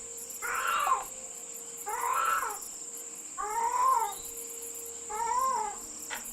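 Lucy the cat gives four drawn-out meows at a steady pace, close and fairly loud, over a constant high insect-like whine in the background.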